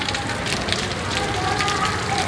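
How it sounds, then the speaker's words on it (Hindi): Rain falls steadily in Farrukhabad, giving a continuous hiss of drops pattering on surfaces close by. "आज बारिश भी अच्छी हो रही है"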